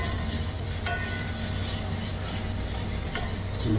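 Garlic fries and browns in a pan with ginger for a Filipino squash-in-coconut-milk dish, a steady loud sizzle with occasional stirring scrapes throughout.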